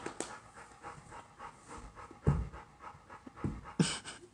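A dog pants in quick, uneven bursts during rough indoor play, with scuffling and a few sharp thumps close by.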